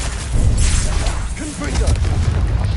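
A booming Bombarda blasting spell from a video game erupts in a dense, loud burst with rumbling whooshes, dipping briefly midway and then swelling again into sustained crashing noise.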